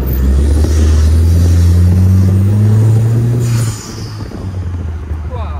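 A loud three-wheeled car engine revs and then drops off as the throttle is released, leaving a lower rumble with faint decompression popping and voices in the background.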